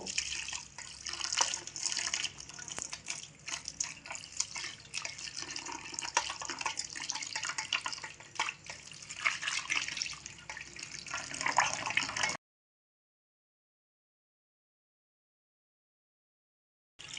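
Cold water is poured over grated raw mango to wash it, a steady close splashing and trickling that runs for about twelve seconds, then stops abruptly into silence.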